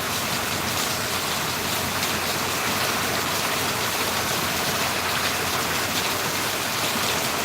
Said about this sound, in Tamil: இங்கு வள்ளியூரில் இடியுடன் கூடிய கனத்த மழை பெய்கிறது